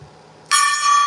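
A gong is struck once, a bright shimmering ring that rises abruptly and sustains loudly after a short quiet lead-in.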